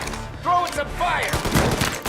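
Gunfire bursts in the video game Mafia Definitive Edition, a rapid fusillade of shots crackling over a busy combat soundscape, with a short voiced shout blended in.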